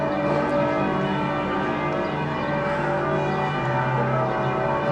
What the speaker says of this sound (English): why are all the bells ringing?